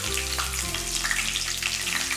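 Steady crackling sizzle of dried chillies and curry leaves frying in hot oil, dense and continuous, close up with no voices.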